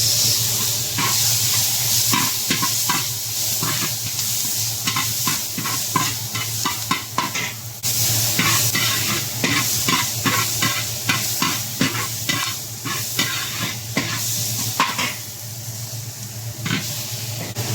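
Onion and tomato sauté in a hot pan with a steady hissing sizzle and repeated stirring scrapes, close and loud, with no talking over it.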